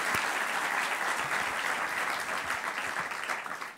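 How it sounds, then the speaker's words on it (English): A crowd at a Year Up Bay Area graduation address gives a dense, sustained round of applause, loud and steady throughout, with no talk over it. "deserves an absolute round of applause once again"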